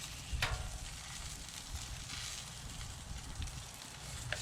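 An egg frying in a dry cast iron pan without oil at a camp cooking setup, a faint steady sizzle with a few small pops and crackles, no talk.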